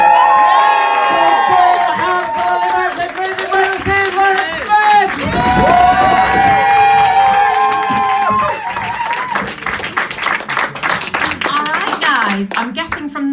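An audience at a G&B open mic claps and cheers at full volume for the next act, a dense sustained roar of hands and shouts with music running underneath.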